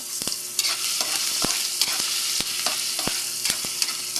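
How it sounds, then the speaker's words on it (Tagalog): Ginger sautés in a pan as the base for Filipino papaitan, a loud continuous sizzle punctuated by sharp, irregular scrapes and taps of a spatula against the metal. "so magigisa na tayo. Unahin natin yung uh, luya"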